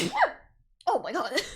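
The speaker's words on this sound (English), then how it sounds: "I think I sneeze very funny." A loud sneeze bursts out at close range, followed by a brief pause and then an excited voice reacting.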